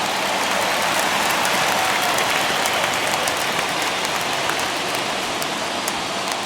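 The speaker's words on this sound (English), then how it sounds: "Crowd gets up for the 3-2." A baseball stadium crowd in MLB The Show 21 lets out a dense, continuous roar of cheering during a Tigers vs Royals game. It stays loud and steady throughout, with no commentary over it.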